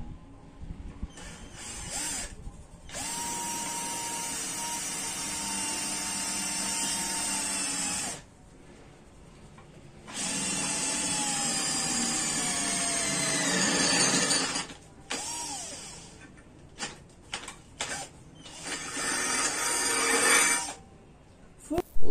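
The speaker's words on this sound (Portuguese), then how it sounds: "Usando broca de 10 mm de aço para fazer perfuração." A Vonder PFV012 cordless drill bores with a 10 mm steel bit, its loud motor whine rising and falling in several long runs with short pauses and a few brief stops between bursts.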